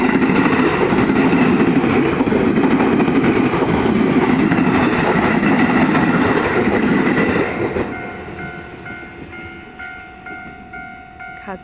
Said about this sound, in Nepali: यताबाट ट्रेन आउँदैछ।